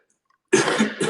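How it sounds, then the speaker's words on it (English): A single harsh cough bursts out after a moment of silence, close and loud, with a short rough throaty tail. "It's just a cough."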